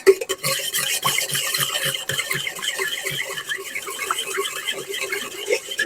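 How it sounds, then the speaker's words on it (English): Pulled pork ingredients being mixed around in a bowl, with a run of soft rhythmic scraping and stirring strokes, close and steady, and a slight wet rasp. "We're just going to mix it around a little bit."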